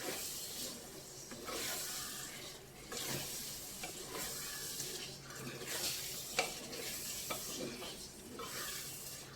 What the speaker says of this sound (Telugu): మ్యాగ్నేషన్ చేసిన మటను ఈ మటను ఇప్పుడు బాగా వేగాలి.